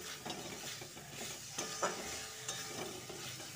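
Ginger paste and a coriander-cumin-green-chilli paste sauté in a pan for a cabbage, new potato and pea curry, giving a steady soft sizzle with a few scraping stirs, fairly quiet and continuous, no talking.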